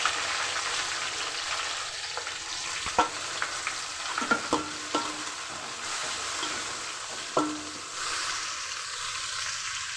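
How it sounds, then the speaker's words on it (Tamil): Garlic and curry leaves fry in hot oil for a fish curry, giving a steady bright hiss with a few scattered stirring clicks and taps, close by and without speech. "பூண்டு வதங்கிச்சு ஃப்ரெண்ட்ஸ்."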